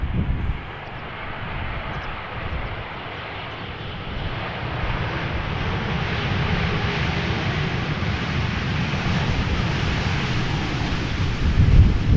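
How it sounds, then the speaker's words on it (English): A TUI Boeing Dreamliner airliner arrives at Amsterdam Schiphol in crosswind conditions, its jet engines giving a steady broad roar that swells gradually, with wind buffeting the microphone. "TUI Dreamliner arriving from Bonaire"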